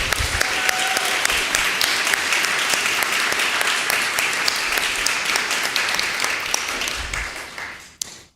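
A church congregation applauds a master's degree graduate of the University of Nebraska during a choir concert service, a steady, full roomful of clapping holding for about eight seconds before quickly fading out.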